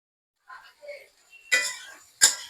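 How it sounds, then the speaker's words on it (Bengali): A spoon stirs rice with spices in a cooking pot, a few soft scrapes followed by two sharper metallic clinks against the pot, close and brief. "পোলার চালগুলো কষিয়ে নিলাম মশলা দিয়ে।"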